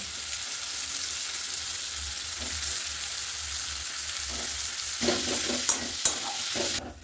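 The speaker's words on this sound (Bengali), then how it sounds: "এরপরে যে আলুটা আমি সেদ্ধ করে রেখেছিলাম সেটা এর মধ্যে দিয়ে ভালোভাবে আমি ম্যাশ করে নেব।" Boiled potato pressed and mashed into fried onions with a spatula, a constant pan sizzle with a few soft scrapes and taps toward the end, and no speech.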